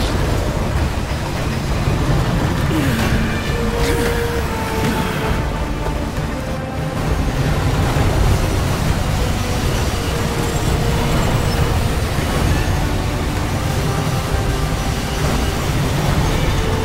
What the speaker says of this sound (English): The train ought to be speeding up.